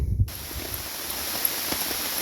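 Rain beginning to fall at a campsite on Serpentine Lake, a steady soft hiss of drops over the water after a brief low thump, fairly faint and continuous with no talk.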